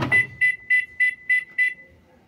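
A Magic Queen Evoluzione 9 SX washing machine beeps six times in an even, steady rhythm to call for its lid to be closed, a loud, close electronic tone after a brief thump at the start.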